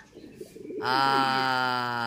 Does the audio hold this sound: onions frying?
no